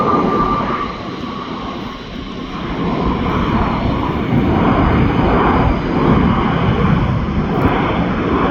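Large jet airliner taking off or landing at Incheon Airport, a steady broadband engine roar that holds loud throughout with a slight swell midway, no voices.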